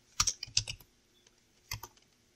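Keys clatter on a computer keyboard as code is typed, two quick bursts of close clicks separated by a short quiet pause.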